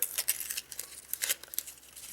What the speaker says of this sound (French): Alors je vais essayer de déchirer sur le côté.